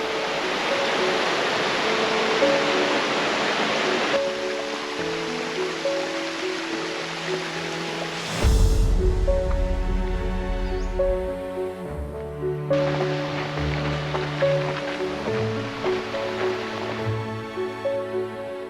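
A constant hiss of rushing water, like a stream or small falls in a temperate rainforest on the Olympic Peninsula, with brief thumps and shifts in the texture.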